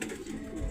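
A racing pigeon coos during a derby, a brief soft low murmur heard up close.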